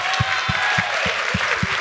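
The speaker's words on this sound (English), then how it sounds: "We can all clap about that." Audience applause at a town hall meeting, a steady wash of clapping throughout with a regular series of low thumps underneath, moderately loud.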